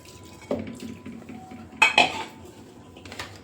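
Metal pots and utensils clank as washed dal goes into a pressure cooker, a few sharp clinks and scrapes with quiet gaps between them, close and without talk.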